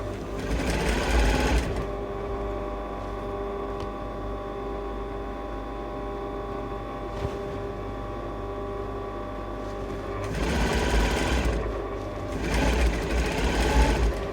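Sewing machine running steadily as it stitches a long seam in a sleeveless dress lining, with loud continuous bursts at the start and near the end and a quieter steady motor hum between.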